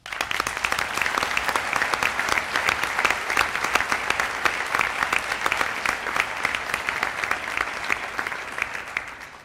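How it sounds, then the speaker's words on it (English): Sustained applause from the audience at a high school senior academic recognition and scholarship ceremony, a dense steady wash of many hands clapping that holds for nearly ten seconds before tapering at the end. "Please join me in a round of applause."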